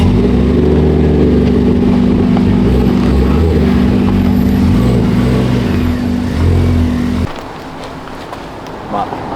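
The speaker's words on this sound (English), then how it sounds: "Of all the places you find an EK9 that's going on a dyno." A Honda Civic EK9 on a rolling-road dyno holds a loud, sustained high-rpm engine note that drops off abruptly after about seven seconds, leaving quieter workshop background.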